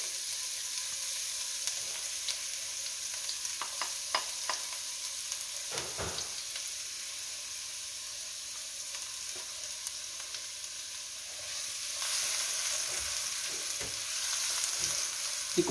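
Finely chopped onion cooks in a pan for a vol-au-vent filling, sizzling steadily with scattered crackles and pops, a few sharper clicks, and a louder hiss toward the end.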